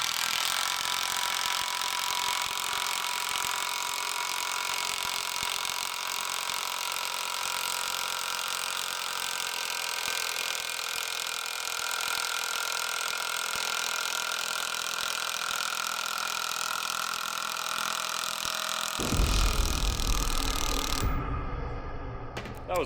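Makita impact wrench working on semi truck lug nuts, a steady close mechanical whir running almost throughout, giving way to a brief harsher burst near the end.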